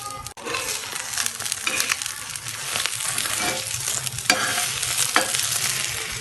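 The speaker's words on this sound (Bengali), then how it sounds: "আপনারা ডিমটিকে ভাজার সময় অবশ্যই গ্যাসের আঁচটাকে হাই রাখবেন, তবেই কিন্তু ডিমটি নরম আর খুব সুন্দর ফ্লাফি হবে।" Eggs sizzle in hot oil over a high gas flame while being stirred in a pan for street-style egg chowmein, a steady frying hiss with scattered scraping clicks from the utensil.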